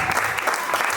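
An audience in a church at a Christmas celebration claps steadily, a dense continuous burst of applause lasting about a second.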